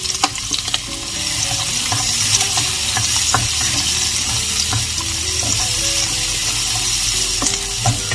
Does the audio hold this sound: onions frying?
yes